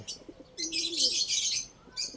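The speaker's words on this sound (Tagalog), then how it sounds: "yung mga ibon labas-masok dito tumatambay" Several small birds, including lovebirds, chirp and tweet nearby in short bursts at an aviary, with a soft cooing note underneath.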